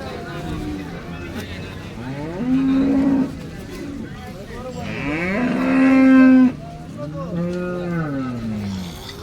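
A cow at the Baramati cattle market lets out two long, loud moos close by, each a few seconds long, with other market sounds and murmuring voices around them.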